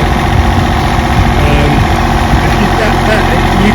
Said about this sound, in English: You can use this device to auger holes